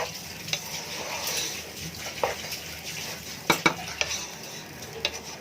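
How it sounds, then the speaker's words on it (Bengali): Raw rice fries in a pot with meat and green chillies for biryani, giving a steady close sizzle broken by repeated scraping stirs and sharp clinks of a spoon against the metal. "আর চাল ভাজা হইলে কিন্তু আওয়াজটা শুনলে বোঝা যায়।"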